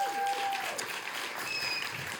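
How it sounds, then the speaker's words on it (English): An audience at a storytelling slam event breaks into steady, even applause that fills the room the whole time, with a few faint tones and voices underneath. "Let's give them a round of applause."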